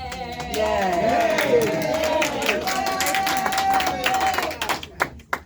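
A town hall audience claps and cheers steadily, a dense patter of hands under voices, with a person talking throughout and the applause thinning out toward the end.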